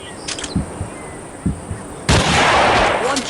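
Sniper rifle shots ring out in the video game Hunting Sniper: a few short, sharp cracks, then one loud blast that fades into a long rumbling tail.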